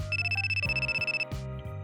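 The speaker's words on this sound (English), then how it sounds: "my phone is ringing" A smartphone ringtone plays, a rapid pulsing electronic melody with a bright high tone, repeating beeps in quick rhythm, heard alone and fairly quiet.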